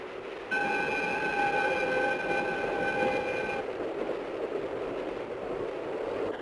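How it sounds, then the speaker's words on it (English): An express train rushes past at close range with a steady roar, while a high whistling tone rings out for several seconds before fading into rumble. "Suguru, it's the express"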